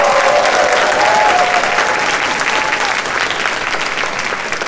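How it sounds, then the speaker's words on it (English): A crowd applauds steadily, a dense wash of clapping that holds at full strength for several seconds and only slightly eases toward the end. "Let's give her a round of applause."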